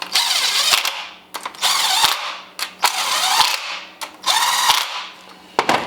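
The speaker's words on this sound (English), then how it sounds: "Grab your 10mm socket and tighten these all down." A ratchet with a 10mm socket snugs down the spark plug coil bolts on an Acura ILX, loud bursts of rapid clicking in several short runs, each ending with a sharp knock, close to the listener.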